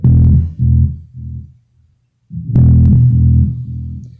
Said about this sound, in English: whenever I play a sound, it makes it echo